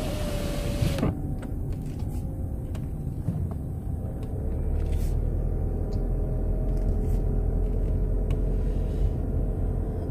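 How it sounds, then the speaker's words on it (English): Cars drive along a busy road near the water, heard from inside a moving vehicle as a continuous low rumble with passing whooshes. The traffic noise is steady and moderately loud, with no talk. "So there'll be lots of cars along here."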